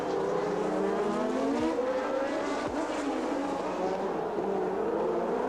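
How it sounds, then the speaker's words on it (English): A 1983 Formula One race with a second Ferrari, number 28, among other cars: loud, continuous engine roar close by, pitch climbing and dropping as cars pass, with two sharp downward sweeps of passing engines cutting through a steady high whine. "Arnoux misses a gear and he accelerates past"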